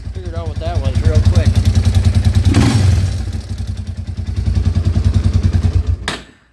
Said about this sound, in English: I had a rattle every time I hit the throttle.